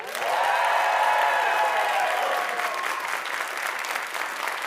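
An audience cheers and applauds loudly, a dense wash of clapping and voices that swells quickly and then holds steady.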